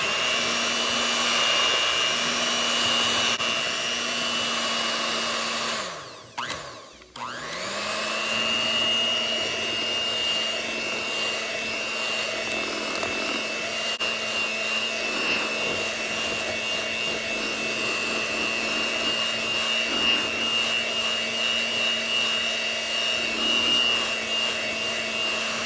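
An electric hand mixer whirs steadily through vanilla muffin batter in a home kitchen, a constant motor drone with one brief stop and restart partway through.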